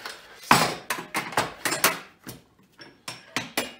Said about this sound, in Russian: Так, трещоточка.